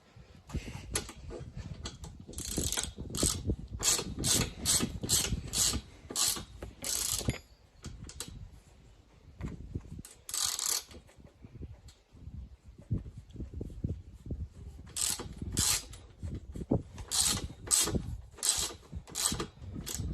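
A threaded part is screwed into place on a damaged Yamaha YXZ side-by-side, with repeated clicking ratchet strokes in quick bursts, pausing and resuming, close and fairly loud.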